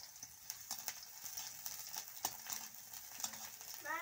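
Chopped onions and mustard seeds sizzle in a hot wok, a quiet continuous frying hiss broken by a few soft stirring clicks, with no voices.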